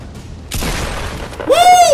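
A single sharp gunshot boom in Fortnite Battle Royale, loud and close, followed by a short burst of noise and a rising game tone.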